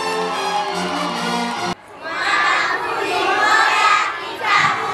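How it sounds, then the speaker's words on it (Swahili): A crowd, many of them children, breaks into applause, shouting and shrill ululation after a brief tonal sound ends, the cheering loud and sustained with rising and falling waves. "Makofi hayatoshi na vigelegele vingi."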